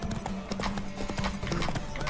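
Horse hooves galloping in The Witcher 3, a fast steady clip-clop of hoofbeats with rumbling low thuds, loud and close, with faint game sounds underneath.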